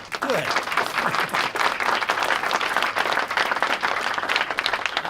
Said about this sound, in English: I'm glad you applauded for that